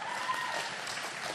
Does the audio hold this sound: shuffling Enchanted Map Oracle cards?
no